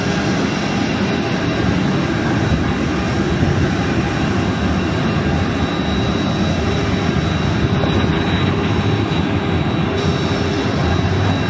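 Airplane engine droning steadily at Jackson Hole airport just after landing, a loud, constant roar and hum close by with no talk.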